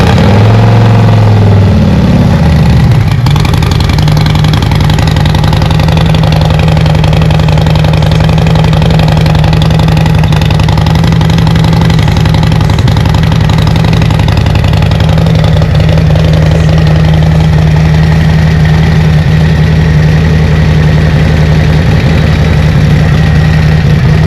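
A motorcycle fitted with a Vance and Hines Supersport 2-into-1 stainless exhaust fires up and settles into a loud, steady idle that rumbles on alone close by.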